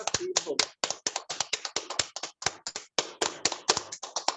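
Bare hands clap sharply and repeatedly in a fast, steady rhythm for an acupressure exercise, with about two dozen crisp, close claps and a short spoken phrase at the start.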